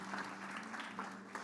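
A church audience claps in scattered, moderately soft applause that holds steady over a low hum without building to a loud ovation.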